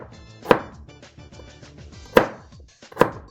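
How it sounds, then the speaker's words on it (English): A knife chops Brussels sprouts on a cutting board in a home kitchen: three sharp, loud, close thunks spaced irregularly, with quieter kitchen clatter between them and no talk. "I fucking love chopping Brussels sprouts"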